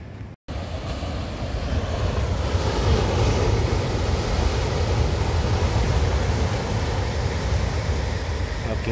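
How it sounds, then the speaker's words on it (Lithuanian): Atlantic Ocean waves crash against coastal rocks in a continuous, loud, close roar of surf mixed with gusty wind, with no pauses between the breakers. "Atlanto vandenynas, kokia jėga."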